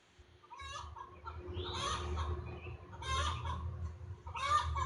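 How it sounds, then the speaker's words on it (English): A neighbor's backyard chickens cluck and squawk outside in a series of loud, agitated bursts with brief pauses between them, heard from a short distance over a low background rumble. "Are those your chickens clucking about up there?"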